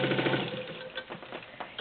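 A vintage Singer 15-91 sewing machine stitches through heavy rubber-backed upholstery, a fast, steady mechanical chatter running continuously at close range.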